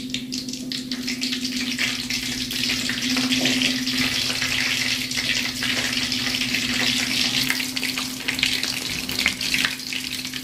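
Shrimp tempura with a batter coating frying in hot oil, a steady dense sizzle with a low hum underneath, continuous and fairly loud throughout with no voices.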